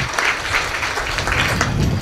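Audience applause at a kirtan event, a dense, continuous burst of many hands clapping loudly and close throughout, with no talk over it.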